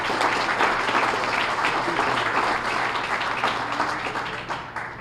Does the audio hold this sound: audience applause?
yes